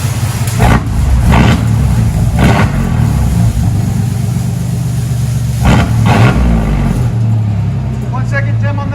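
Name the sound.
1995 GMC Sierra 4.3L V6 straight-pipe exhaust revving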